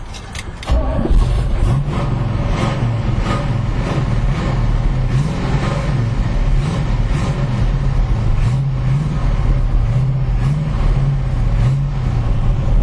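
A restored 1969 Camaro SS 396 with a four-speed idles steadily after starting, its big-block V8 rumbling loud and close with a lumpy, pulsing rhythm and small rises in revs, with no talk over it.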